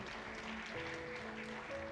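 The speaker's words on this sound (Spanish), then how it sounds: "Démosle palmas al Rey de Reyes." Steady, dense clapping from a church congregation fills the room, close and continuous, with sustained keyboard or organ tones held underneath.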